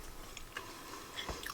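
A single close, quiet bite into a dense Guinness stout ginger cake with caramel, a soft crunchy chomp followed by faint chewing, with no talk.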